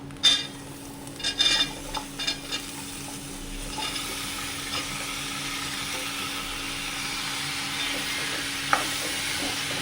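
Chopped raw plantain dropped into hot oil with roasted spice powders for a dried shrimp curry, sizzling steadily throughout, with a few quick stirring scrapes and clatters near the start and one later clink.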